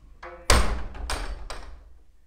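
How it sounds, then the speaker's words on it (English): A shop door on a high street in Wotton-under-edge swings and bangs shut with a sharp, close thud, followed by a couple of lighter knocks and rattles as it settles, no talking. "Mind the door on your arm, James."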